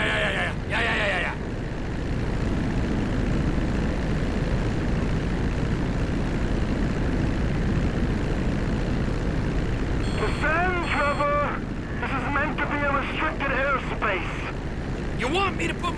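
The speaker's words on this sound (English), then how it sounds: "Yeah, and I'm in a crop duster." Crop duster plane flying in GTA 5, a steady droning propeller engine hum throughout, with people talking over it in places.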